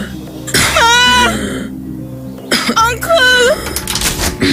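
A woman gives harsh, hoarse coughs and throat-clearing in two loud bursts close by, with a break between them and raised voices around her.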